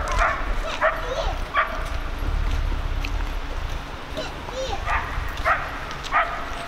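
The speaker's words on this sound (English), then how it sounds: "Dogs are all jumping in the water over there." Dogs barking and yipping beside a lake as they jump into the water, sharp repeated barks at moderate distance over steady outdoor background noise, with some faint speech mixed in.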